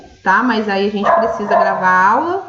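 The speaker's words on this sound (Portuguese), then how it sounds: "mais uma vez peço perdão pelo barulho do cachorro" A dog barks and yips repeatedly in a home, loud and close, its harmonic barks overlapping someone talking.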